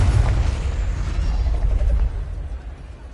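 A Confringo blast spell goes off in the wizarding game Hogwarts Legacy, a loud, heavy booming burst with a deep rumbling low end that holds for about two seconds and then fades.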